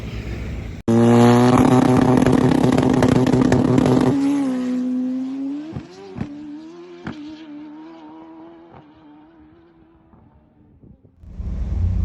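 A drag race car engine roars at full power for a few seconds on a pass down the strip, then drops off and fades into the distance as the run ends.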